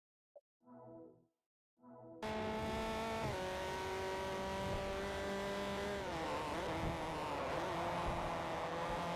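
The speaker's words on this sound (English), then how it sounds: "That was me late braking." In Forza Motorsport 4, a racing car's engine note bursts in after a brief silence and holds loud and steady, then the pitch drops sharply under late braking before revving again.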